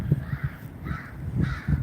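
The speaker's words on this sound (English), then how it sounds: "we got some crows here" Several crows caw repeatedly beside the water on an autumn walk in Verdun, their harsh calls coming in uneven bursts at moderate distance with no talking.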